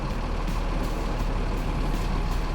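The tilt bed of a recovery truck rises while it carries a medium-wheelbase, semi-high-roof Renault Master van. A steady, loud engine and hydraulic drone runs without a break throughout.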